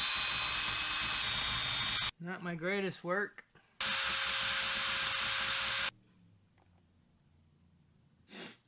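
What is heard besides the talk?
power drill drilling out a part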